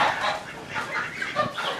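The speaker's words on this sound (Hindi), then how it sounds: "ये ले, मुर्गे भी हैं भाई।" Hens and roosters cluck in short, overlapping bursts throughout, a busy village farmyard chatter near Madinah at moderate volume with no talking.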